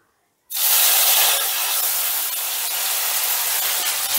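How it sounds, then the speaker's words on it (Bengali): Spice paste hits hot oil with tempering spices and erupts into a loud, steady sizzle that starts abruptly after a short silence and keeps hissing evenly without a break. "ফোড়নটা নাড়াচাড়া করেই দিয়ে দিচ্ছি বাটা মশলা"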